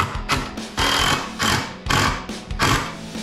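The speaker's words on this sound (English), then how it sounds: "And then I'll sink these two screws." A drill drives screws into a wooden kids' picnic table in loud, close bursts, whirring in several short runs separated by brief pauses.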